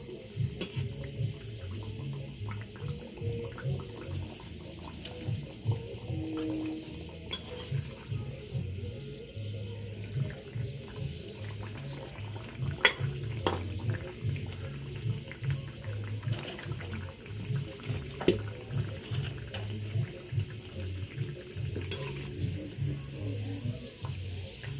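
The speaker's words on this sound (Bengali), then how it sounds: "পিঠেটাকে দু সাইডে ভালো করে ভেজে নিতে হবে।" Coconut pitha fries in hot oil, giving a soft, steady sizzle and gentle bubbling that stays faint and continuous, with occasional light clinks in a quiet village kitchen.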